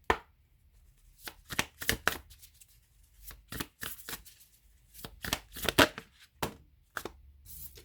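Oracle cards are shuffled and drawn by hand, giving irregular bursts of crisp, close riffling and flicking separated by brief pauses, with no voices.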